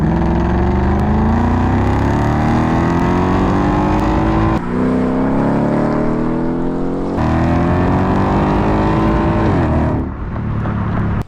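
Ford Mustang engine and exhaust outdoors, loud and close, revving repeatedly with rising pitch sweeps in separate bursts and a brief drop between them.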